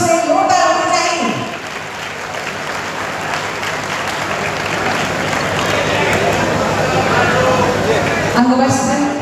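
An audience at a talent award ceremony in Nawadih claps loudly and steadily in sustained applause. A voice is heard briefly at the beginning and end.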